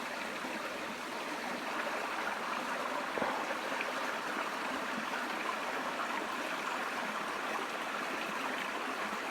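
A creek flows steadily outdoors in spring, a continuous broadband rush and trickle with no pauses, close and even throughout.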